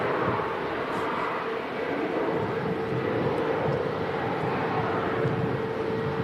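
A TAP Air Portugal Embraer jet bound for Lisbon at Manchester Airport gives off a loud, steady broadband engine roar that stays constant throughout, heard from a moderate distance with no voices.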